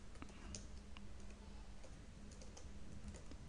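Typing on a computer keyboard while entering Command Prompt commands to prepare a USB flash drive: faint, steady clicking keystrokes spread through the clip at a quiet, close level.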